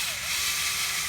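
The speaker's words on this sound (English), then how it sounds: "So what I use for that is a sanding wheel, which is a bunch of little flaps of sandpaper" A sanding flap wheel deburrs a drilled hole, giving a continuous high whirring grind at close range that holds steady for the whole stretch, with a faint tonal whine underneath.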